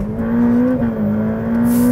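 A 2020 Ferrari F8 Tributo's 710bhp V8 holds a steady, loud high-rev drone throughout, with a slight dip and recovery midway, close and continuous.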